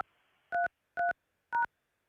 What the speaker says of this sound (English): Please enter your show or meeting number and press